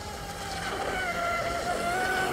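A Tenshock F1 high-performance electric RC tunnel hull boat running on water, a steady high-pitched motor whine with shifting pitch over water noise, fairly loud and continuous.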